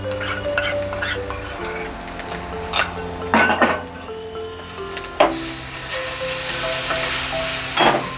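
Mustard paste hits a hot frying pan for a banana-stem and prawn curry, sizzling loudly while a spatula scrapes and clinks against the metal in bursts.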